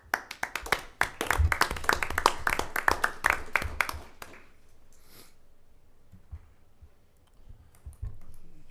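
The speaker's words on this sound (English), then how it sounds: "I think that deserves a round of applause." Brief round of applause and clapping from a small audience at a city council meeting, lasting about four seconds before fading into quiet room noise and faint shuffling.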